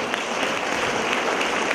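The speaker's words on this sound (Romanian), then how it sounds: "Vă rog frumos, să o aplaudați," A hall audience at a town-hall concert honouring women applauds as the mayor's mother is invited on stage. The clapping is a thick, continuous wash, close and uniformly loud from start to finish.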